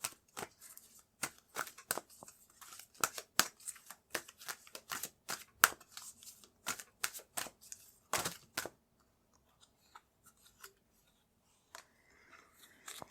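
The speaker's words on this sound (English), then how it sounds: "So I'm going to pull a card for you." Tarot cards being shuffled by hand: a quick run of crisp, papery riffles and flicks, close and fairly loud, that thins out into a few scattered soft taps toward the end.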